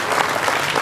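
Audience applause at a TiECon Hubli 2012 talk, a dense, steady wash of clapping filling the whole moment at close range.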